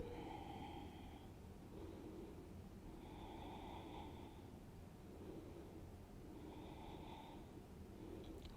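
Slow, steady breathing in and out while holding a yoga pose in a flexibility flow session, with three soft rhythmic breath cycles, faint and close over a low hiss, no talking.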